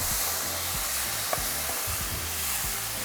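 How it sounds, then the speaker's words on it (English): Chopped onion sautéing in a hot pan, a steady close sizzle and hiss with faint stirring scrapes, no voices. "we're going to add a small piece of onion. We're going to saute for a couple minutes"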